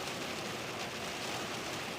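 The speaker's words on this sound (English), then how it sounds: "this is the heaviest rain we have seen so far, Chris, Chesley" Heavy rain pours steadily during a severe storm in Georgia, a dense, continuous hiss of downpour with no talk.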